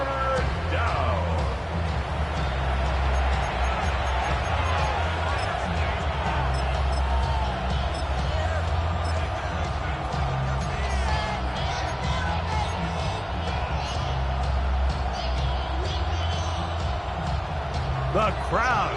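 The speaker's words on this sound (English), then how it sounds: "The crowd making their presence felt." Steady stadium crowd roar during a third-down play in a Madden football video game, a loud continuous wash of cheering and yelling with scattered whoops, heavy and unbroken throughout.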